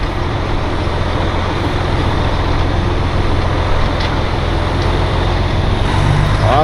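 Heavy truck engine rumbling steadily while backing and jackknifing a trailer on gravel, a continuous loud low drone with road-like noise throughout and no speech.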